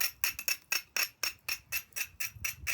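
A Tallahatta quartzite blade has its edges abraded during flintknapping, producing a steady run of rhythmic scraping strokes, about four per second, close and fairly quiet, with no talking.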